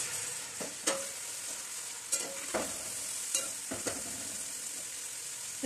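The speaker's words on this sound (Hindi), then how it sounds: "ये प्याज इसमें डाल देंगे और इसको लाइट गोल्डन होने तक फ्राई कर लेते हैं।" Chopped onions fry in oil for a chicken dum pukht biryani, a soft continuous sizzle broken by several sharp scrapes and clanks of a spoon stirring the pan, close by, with no voices.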